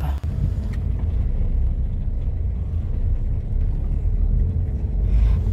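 Steady low car rumble from inside a taxi on a city ride, continuous engine and road noise throughout with some wind buffeting, no talk.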